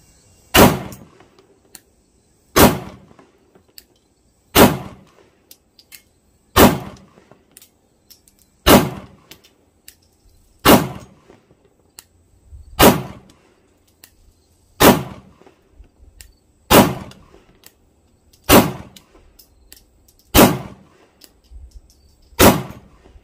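Sharp, loud gunshots from a Sig Sauer P365XL pistol fired at a target, about a dozen evenly spaced reports roughly two seconds apart, each with a short decaying tail and no talk in between.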